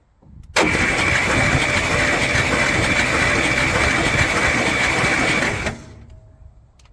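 A 1955 Buick Roadmaster engine is cranked over steadily for about five seconds, a loud continuous whirring churn that stops abruptly, with no clanking.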